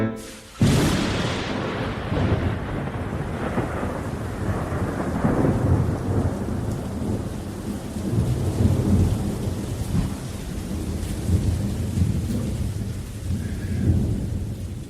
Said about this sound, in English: we've had an outbreak of thunder and lightning there at the end of that Breton song